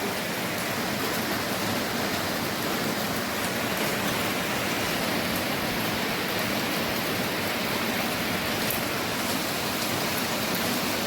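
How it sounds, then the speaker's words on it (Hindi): Heavy rain pours steadily and loudly, a dense unbroken hiss that stays constant throughout with no voices over it. "बारिश इतनी तेज़ हो जा रही है"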